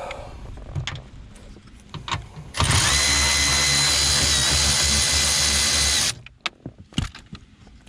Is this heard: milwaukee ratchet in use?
yes